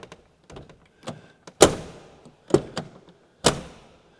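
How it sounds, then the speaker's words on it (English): A Lotus Carlton's door shut several times, each close a sharp metallic thunk as it meets the slightly misaligned striker plate, with softer handling clicks and rattles between the loud slams. "as I close the door, the striker plate pulls the door up to align it with the body shell."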